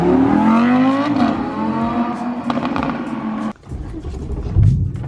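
A V8 car on a test drive revs hard, its engine note climbing in loud rising sweeps, then cuts off abruptly before a lower rumble returns as it keeps driving.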